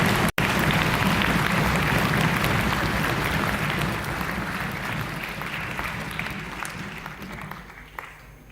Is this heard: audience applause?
yes